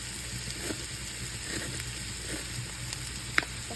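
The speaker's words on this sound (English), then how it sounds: "I'm gonna go ahead and add the garlic in there" Minced garlic sizzles in olive oil in a pan: an even, close, hissing fry that holds steady for a few seconds, with one sharp click near the end.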